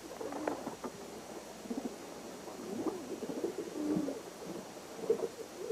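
A pigeon coos softly in short, repeated bursts, faint and close by, over a quiet background hiss.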